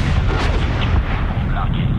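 Missile launch and explosions in the Medal of Honor game, a dense, continuous roar of booming blasts and rumble, loud and close, with a voice faintly under the din.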